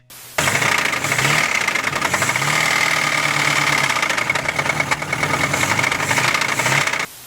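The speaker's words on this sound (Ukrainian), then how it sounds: "хороший двигун, а він стукає як проклятий" A car engine runs with a persistent rhythmic knocking, loud and close, the rough idle continuing steadily for several seconds.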